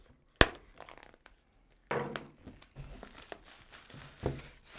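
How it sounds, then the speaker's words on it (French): Plastic film is peeled off a Red Magic gaming smartphone box, giving a sharp crackle followed by quieter, intermittent crinkling and rustling close by. "on va tout de suite déballer, enlever le film plastique"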